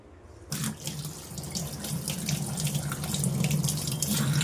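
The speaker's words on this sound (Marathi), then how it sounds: "हे बघा, अशा पद्धतीने तुम्ही त्याच्यात पाणी मसाल्यामध्ये शिंपडून घ्यायचं आहे" Water runs from a tap in a steady stream into a bowl of masala being prepared for Malvani-style pomfret fry, starting abruptly and continuing close and alone.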